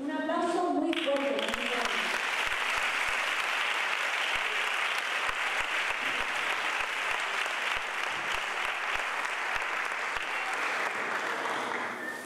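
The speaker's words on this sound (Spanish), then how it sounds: "Un aplauso muy fuerte." Loud, sustained audience applause at a municipal music academy closing ceremony, a dense roar of many hands that follows a short spoken call, rising quickly and holding strong for over ten seconds with scattered louder claps.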